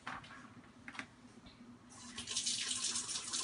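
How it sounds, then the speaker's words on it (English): A kitchen tap runs water over a head of broccoli. After a few quiet taps and clicks, the stream starts partway through and keeps up a bright, close splashing to the end. "If you look at it, the water is just running through."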